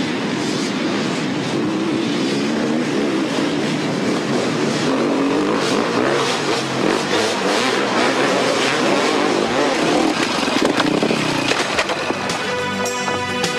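Enduro motorcycles race over the rough course of the 1995 Erzberg Off-Road Challenge, producing a dense, continuous roar of engines at steady loudness that rises and revs throughout, with no talk.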